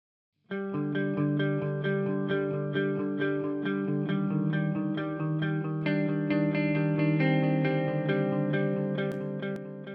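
An electric guitar plays a steady run of strummed chords, each trailed by repeating echoes that smear the notes together into a lush, sustained wash.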